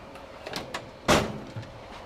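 An auto mechanic's toolbox drawer holding taps is pulled open, a single sharp sliding clatter in the middle, with faint ticks and knocks before and after.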